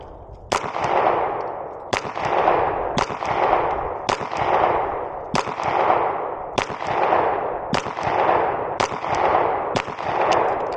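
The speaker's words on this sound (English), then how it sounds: "a couple of those shots I touched off a little bit too early" Beretta PX4 pistol shots fired at an outdoor shooting range on a warm day: about eleven sharp, loud reports at a steady pace roughly one second apart, each trailing a brief echoing decay, no talk.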